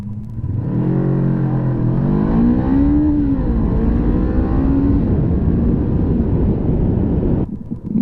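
A 2016 Honda CBR500R motorcycle engine drones loudly while riding, its pitch rising and falling through gear changes under heavy wind rush before cutting off near the end.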